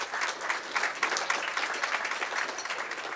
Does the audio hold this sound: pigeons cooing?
no